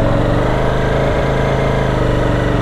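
A Ducati Streetfighter V4S motorcycle, 2025 model, idling with a steady, continuous low engine rumble that stays close and even, with no talk over it.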